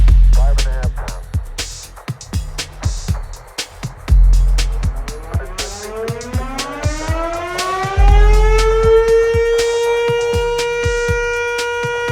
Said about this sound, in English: the siren tells us that actually we, us as humans, are causing environmental impact in a negative way